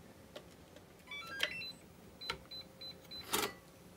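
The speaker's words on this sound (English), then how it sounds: "so we had 4 beeps" A faint quiet room with a few scattered clicks, then four short, evenly spaced electronic beeps from a hoverboard controller setting speed level 4, followed by a louder rustle.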